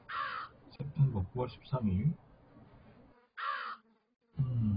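Harsh crow caws in the Root of Evil escape-the-house horror game: a short burst at the start and another near the end, with someone talking in Korean over most of the stretch.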